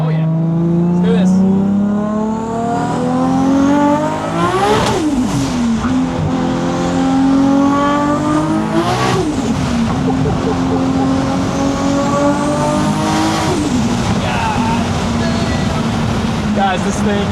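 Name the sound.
1600HP Toyota Supra engine accelerating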